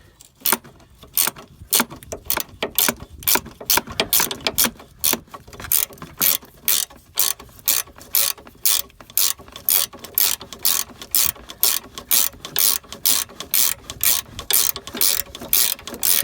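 A ratchet wrench clicks in quick repeated bursts while front suspension springs and a steering bearing are removed from a Citroën C4 Picasso, crisp and close with short pauses between runs and no talking.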